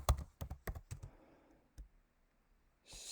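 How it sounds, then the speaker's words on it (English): A location being typed on a computer keyboard: a quick burst of close, crisp key clicks, then a pause and a single later keystroke, heard alone in a quiet room. "I'm going to add a location, and I'm going to type in,"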